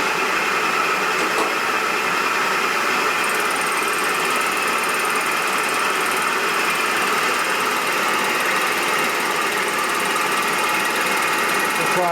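A rebuilt Harley shovelhead engine in an FL bobber chopper runs at a steady rev, producing a loud, continuous mechanical drone with a rapid ticking rattle that holds unchanged throughout.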